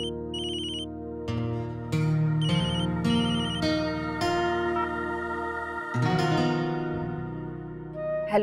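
A melodic phone ringtone plays clearly on its own, a repeating synthesized tune with bright chiming notes, fairly loud and close.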